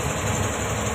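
A tugboat's engine idles in a low, steady, continuous rumble during a tanker maneuver at a port, with no voices.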